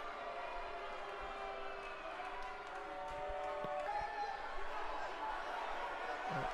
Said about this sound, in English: And by the sound of things on the crowd reaction, it looks like the next person in this matchup will be Gentleman Jack Gallagher